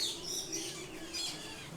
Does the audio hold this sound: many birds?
yes